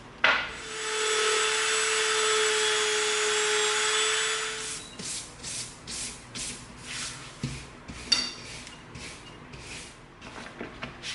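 A Dremel rotary tool sands an EVA foam prop knife, giving a steady, loud, broadband grinding whir for about four seconds, then stopping into quieter rubbing and brushing sounds as foam dust is wiped off.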